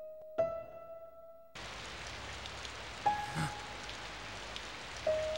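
Steady rain noise in a horror video game, a dense wash that starts abruptly after a brief quiet tone and continues throughout, with a few sustained chime-like tones rising over it.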